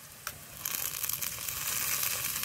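Ginger and garlic paste hit hot oil with browned onion and tomato in a pan for Bengali mutton curry, giving a close, steady sizzle that swells after a brief scrape, with soft stirring noises.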